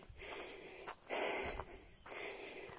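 A woman pants heavily and audibly, out of breath after helping launch a boat onto the shore, with three close, breathy exhalations in a row and no speech.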